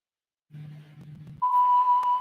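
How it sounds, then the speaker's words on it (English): A kitchen-style timer alarm goes off with a steady, loud, continuous electronic beep, preceded by a brief low hum; no one talks over it. "so that was the alarm"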